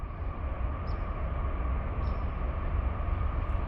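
Freight train with a Jersey Central Lines EMD SD70ACe heritage locomotive on the head end, 114 axles rolling past at about 48 mph, giving a steady loud rumble with rail clatter and no pauses.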